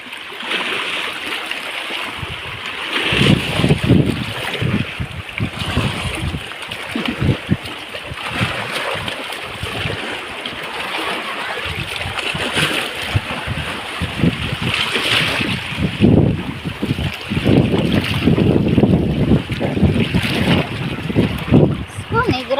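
Strong gusting wind buffets the microphone as waves wash and splash at a coastal oyster-gathering spot, a continuous rough roar with surging peaks throughout.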